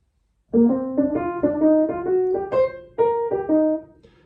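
A short run of quick, connected bebop melodic notes played on a sustained instrument, rising and falling in a jazzy line using the minor third, close and unaccompanied.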